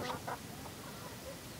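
A brief rooster crow or clucking call at the start, fairly faint against a steady background hum, followed by quiet.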